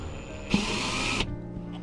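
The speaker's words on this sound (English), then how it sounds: "You just want to drill slow to start off with to make that point." A close power drill whirs in one brief burst of under a second while starting a hole slowly during an awning install, then cuts off into quiet.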